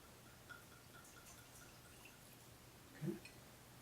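Absinthe is poured and drips into a glass, a faint, quiet trickle with a single louder splash near the end against a low background hum.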